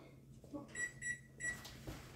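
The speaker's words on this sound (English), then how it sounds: "I'm going to set this timer for 12 minutes." A kitchen timer being set for a cookie bake gives three or four short, quiet electronic beeps in quick succession, close by in a calm kitchen.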